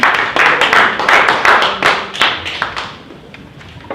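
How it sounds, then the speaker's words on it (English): Audience applause at a real estate sales meeting, a dense burst of clapping that starts loud and steady, then thins and fades toward the end with a few scattered claps left. "Give him a round of applause"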